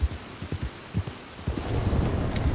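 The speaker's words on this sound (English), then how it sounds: "It's raining so badly." Heavy rain in the video game Red Dead Redemption 2 hisses steadily with low rumbling thuds underneath, growing denser toward the end, with no voices.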